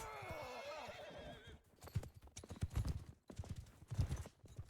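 Horses neigh and gallop in a medieval battle video game, a shrill whinny up front giving way to rapid hoofbeats that rise and fall over a faint murmur of voices.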